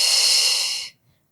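A single strong exhale during a morning stretching exercise, a close, breathy hiss held for almost a second before cutting off sharply into quiet.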